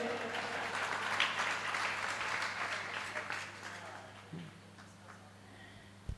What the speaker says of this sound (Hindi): हंसी तो लग रही होगी, ताली तो बजा दी